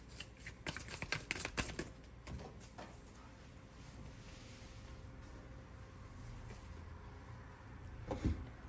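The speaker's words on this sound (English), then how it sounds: "So I feel called to pull one more card for that" Tarot cards being shuffled and pulled from the deck: a quick run of soft, papery riffles and flicks near the start, then quieter sliding and handling, with one more brief flutter near the end.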